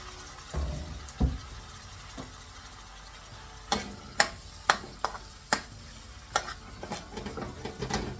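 Tomatoes, a little tomato paste and spices being sautéed in a pan for a lamb rogan josh: a quiet, steady sizzle broken by a string of sharp scraping and tapping stirring strokes, with no talking.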